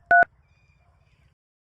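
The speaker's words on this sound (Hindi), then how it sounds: "अभी हम फोन कर रहे हैं।" A single short, loud telephone keypad tone sounds as a phone is dialed, followed by a faint low rumble and then silence.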